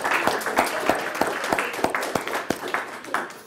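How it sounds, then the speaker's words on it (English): An afternoon teaching-showcase audience claps for three presenters, a brisk patter of hands with distinct sharp claps standing out, moderately loud and steady throughout with no talking. "Let's give a round of applause to all three of our presenters again."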